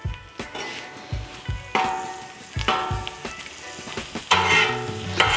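Griddle fries sizzle in butter on a Blackstone griddle, a steady fry crackle broken by repeated spatula scrapes and tosses against the flat-top, loud and close with no talk.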